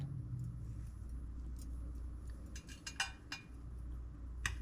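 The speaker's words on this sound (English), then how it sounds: "Car is loud going by." A car passing by loudly outside: a low, steady road rumble fills the whole stretch, with a few sharp clinks and taps near the end and no talking.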